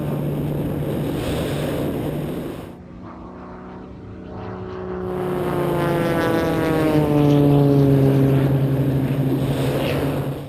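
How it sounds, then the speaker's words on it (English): An aerobatic propeller plane with eight ailerons performs at a Turkish airshow. Its loud engine drone dips briefly, then swells and rises in pitch as it passes close overhead. "With no less than 8 ailerons on her wings, each of which works individually, Purple Violet is capable of incredible aerobatics."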